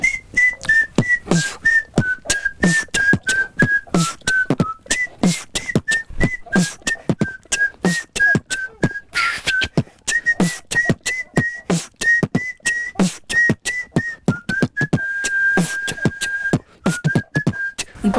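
A person whistles a song melody steadily and clearly, the sustained tune running over a fast, punchy beatboxed rhythm throughout, close and loud with no talking.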